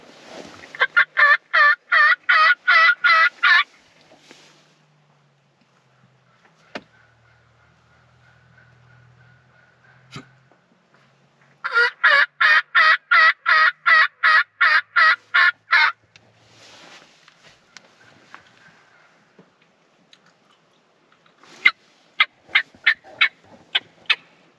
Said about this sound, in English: There's definitely turkeys out there.